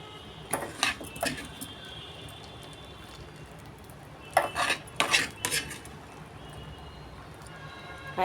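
Fried dry fruits drop into palm fruit payasam in a steel vessel, followed by a spoon clinking and scraping against the metal in short clustered bursts over a quiet background.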